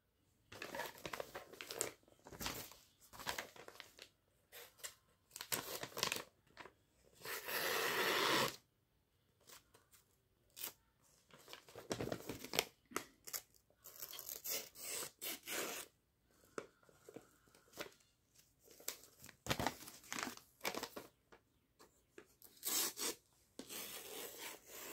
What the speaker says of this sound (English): Let's do a cut test now. The Pendleton Lite Hunter.